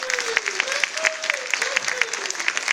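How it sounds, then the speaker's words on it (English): An audience at an artist talk claps for a book designer with a brisk burst of applause, while a voice keeps speaking over the clapping. "Please give him an applause."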